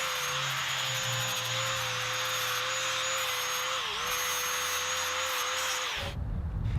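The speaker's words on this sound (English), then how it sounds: "A flat disc cleans it up real quick." An angle grinder with a flat disc scrubs surface rust and crud off steel parts for a giant edge sander build, a steady loud whine with a slight dip in pitch midway, cutting off abruptly near the end.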